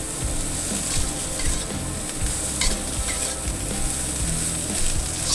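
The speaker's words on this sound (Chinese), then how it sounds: "加入米饭，全程中火，边炒边用铲子把米饭压散" Rice stir-fried over medium heat in a pan, a spatula pressing and breaking up the grains for beef fried rice; steady close sizzling with repeated scraping and tapping strokes throughout.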